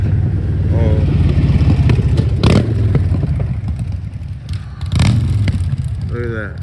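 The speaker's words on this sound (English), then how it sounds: "look at that. That is a motorcycle." A loud motorcycle passes on a street with a rough, rumbling engine roar that swells twice as it goes by, while a person's voice is briefly heard.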